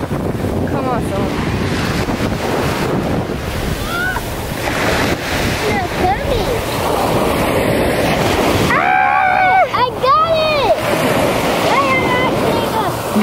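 Ocean waves wash onto a beach with heavy wind buffeting the microphone, a loud continuous roar while an adult and someone talk and call out close by.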